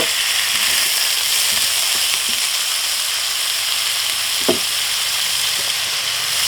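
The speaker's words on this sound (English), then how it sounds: "throw down some olive oil on the pan. Get that all around real quick. And throw our meat onto the pan." Andouille sausage and tasso meat sizzle loudly in olive oil in a pan, a dense continuous hiss with a few faint pops and one sharp tap near the end, no talking.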